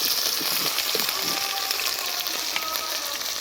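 Prawns sizzle and crackle in hot oil in a pan, a loud, steady frying hiss with scattered pops and no voices.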